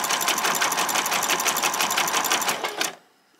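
A sewing machine runs a zigzag stitch along the fabric edge of doll's boxer shorts, a close, fast, even mechanical rattle for about three seconds that then stops.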